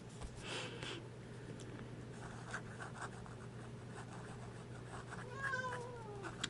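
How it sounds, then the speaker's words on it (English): A pet cat gives one faint, brief meow near the end, heard over quiet scratching of writing in a calm indoor room. "And that's my cat."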